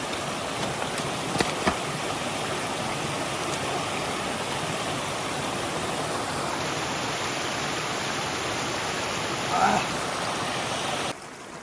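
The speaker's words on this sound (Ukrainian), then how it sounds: "Зараз буду пити воду з цього водоспада." A small mountain waterfall in New Zealand rushes and splashes steadily and close by, a constant bright roar of falling water from start to finish.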